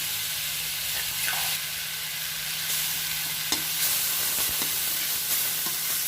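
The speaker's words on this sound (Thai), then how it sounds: "เราเอาพริกกับกระเทียมลงไปคั่วเลยคั่วก่อนให้มันหอม" Chili and garlic dry-roast in a hot pan with a steady close sizzle and hiss, broken by a few scraping stirs, with no one talking.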